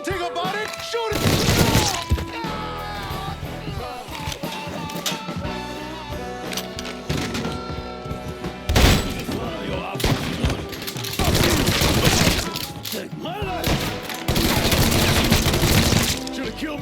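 Gunfire in Mafia III: dense, loud bursts of shots and crashing impacts come in waves over a game soundtrack, and voices shout at points.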